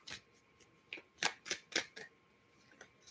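Soul coaching cards being shuffled by hand, a series of crisp papery riffles and flicks close up, with several distinct bursts and short pauses, no talking.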